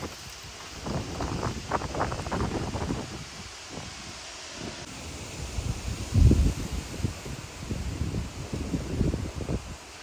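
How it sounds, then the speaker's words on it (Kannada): Gusty wind blows outdoors in New Jersey ahead of an approaching rainstorm, a broad rustling roar that swells in uneven surges, with one stronger buffeting gust midway and no voices. "ಹೇಗೆ ಗಾಳಿ ಬೀಸ್ತಾ ಇದೆ ನೋಡಿ."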